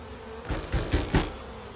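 A honey bee swarm hums close by, a dense continuous buzz with a few louder pulses in quick succession as the clustered bees are disturbed.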